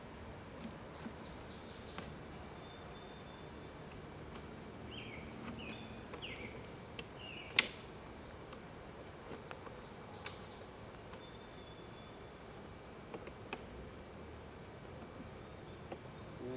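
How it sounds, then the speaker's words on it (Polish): Honeybees hum faintly and intermittently around a hive with a newly introduced queen in a quiet outdoor setting, with a few soft clicks and occasional distant bird chirps. "Niech sobie pszczoły dalej pracują tutaj."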